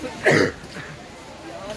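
One short, sharp cough close by at an ashram near Janki Jhula in Rishikesh, followed by a quiet stretch with faint background noise.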